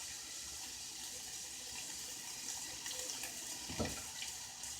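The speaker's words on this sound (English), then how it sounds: "I'm going to put 2 cups of water in here." Tap water runs steadily into a measuring cup for spaghetti sauce prep, a continuous close hiss with a brief splashy surge near the end.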